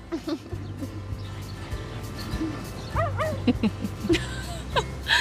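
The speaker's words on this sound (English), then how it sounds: "I still can't believe you kept the dog." A dog whimpers and yips close by, a run of short high whines and yelps scattered over a few seconds against a low background hum.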